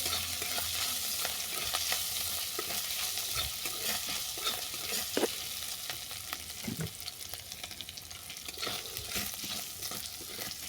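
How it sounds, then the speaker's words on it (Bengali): Grated ginger sizzles in mustard oil in a wok while a utensil stirs it, a continuous close crackle broken by small scraping clicks and taps, with no one speaking. "আদাটাকে একটু ভাজা ভাজা করে নেব।"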